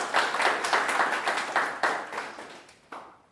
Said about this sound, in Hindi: एक बार ताली तो बजाओ।